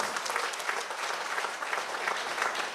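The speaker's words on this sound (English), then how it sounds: "I think I need to give him another round of applause." Steady applause from a conference crowd at a party constituency gathering, dense and even clapping holding throughout at moderate loudness with no talk over it.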